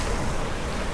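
Sea waves wash onto a beach at a Palawan campsite, a steady, dense roar of surf with wind buffeting the microphone throughout and no voices.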